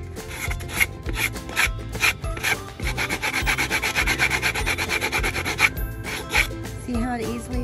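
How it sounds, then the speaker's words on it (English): Sandpaper rubbing along the edge of a painted wood piece to knock off peeling paint, a close, steady back-and-forth scratchy rasping that keeps going in quick repeated strokes. "Just kind of sandpaper that edge."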